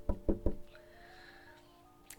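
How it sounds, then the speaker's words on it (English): Three quick knocks on wood, sharp and close, followed by a faint sustained tone and quiet background, no talking. "knock the wood"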